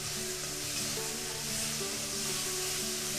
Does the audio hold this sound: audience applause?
no